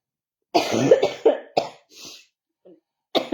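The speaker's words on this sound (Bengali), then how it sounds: "ভীষণ কাশি" One person coughs hard and close to the microphone, a cluster of harsh bursts followed by a couple of weaker coughs, with short silent gaps between them.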